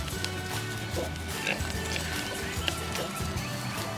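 Pigs grunt and snuffle close by while chewing a whole apple, with faint voices and animal movement in the background throughout.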